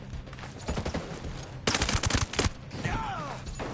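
Rapid bursts of automatic gunfire in the video game Ghost Recon Breakpoint, loud clustered shots in the middle of the stretch with scattered single cracks around them and a brief whistling tone near the end.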